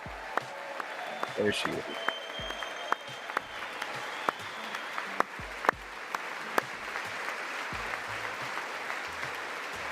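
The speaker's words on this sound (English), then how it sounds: "every time there's somebody in the crowd getting applause" Sustained crowd applause with scattered cheers fills a large audience space at a live televised address, steady and moderately loud, while a voice speaks briefly over it.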